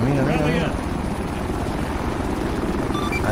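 Two helicopters in the video game ArmA 3 with a damaged tail rotor on one, steady loud rotor thumping throughout, while someone speaks over the noise at the start.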